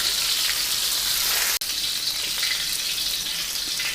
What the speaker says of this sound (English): The whole frying process will not take more than 2 to 3 minutes.